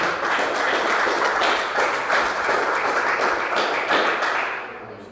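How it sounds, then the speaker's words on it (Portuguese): A church congregation claps warmly for Jesus, a dense, steady wash of many hands sustained for several seconds before tapering off at the end. "dê uma salva de palmas bem alegre para Jesus"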